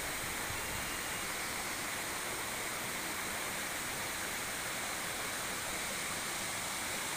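The Subik Tuha Pusri waterfall in Indonesia pours in a steady, even rush of white water, continuous and unbroken, with no voices.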